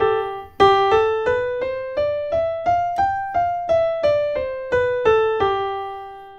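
A G Mixolydian scale played on a keyboard, single clean notes stepping upward one by one and then back down in an even rhythm, bright and close with no voices.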